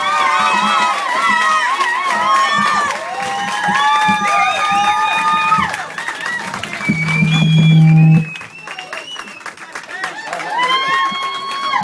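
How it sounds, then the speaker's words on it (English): A talent show audience claps and cheers for a performer, lively crowd noise mixed with shouts and chatter, a loud burst swelling around the middle before settling into continued clapping. "Ladies and gentlemen, big round of applause."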